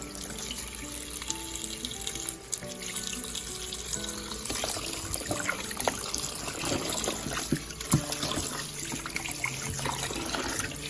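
Tap water runs steadily into a sink while lamb meat is rinsed under it, with continuous splashing and occasional clinks and shifts as the meat is handled, close and moderately quiet, with no talk.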